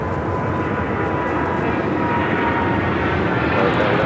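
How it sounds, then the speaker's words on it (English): A China Airlines cargo Boeing 777 freighter takes off from runway 25 left at LAX, its engines a steady, loud broadband roar that holds level throughout with no other distinct sounds. "That's that China Airlines cargo 777 freighter heading to Miami, taking off 25 left, right in front of our cameras."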